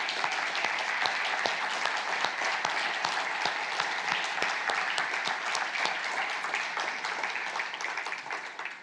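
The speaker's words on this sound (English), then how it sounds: "I want to ask you for an applause for all of these people" Audience at an EU agriculture conference on generational renewal applauds in a sustained, moderately loud clatter of many hands, with a few sharper individual claps standing out, fading slightly at the end.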